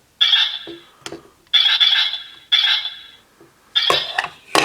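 A DX SworDriver toy with its chip reader triggered, giving several bright electronic chiming and jingling sound bursts separated by short pauses, plus small plastic clicks, close and fairly loud, with no voices.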